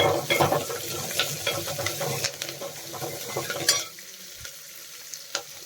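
Crushed garlic, half an onion and curry leaves go into hot oil for a village-style dry fish sambar, sizzling loudly with stirring scrapes before the frying quickly dies down to a quieter hiss.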